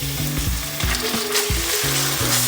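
Garlic, chili flakes and tomato paste sizzle and fry steadily in a hot pan, a close, continuous crackle with no voices over it.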